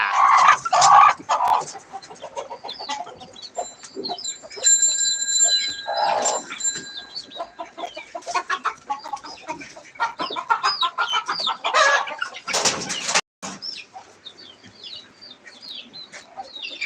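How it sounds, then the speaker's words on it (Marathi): Many chickens cluck and squawk continuously, loud and close, with sharp calls and wing flaps scattered through a busy coop-like din. "हे बघा कोंबड्या"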